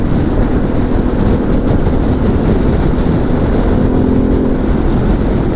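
A Harley-Davidson Pan America cruises along the road with its exhaust holding a steady, loud rumble close by, wrapped in continuous wind noise and a slight rise in tone late on.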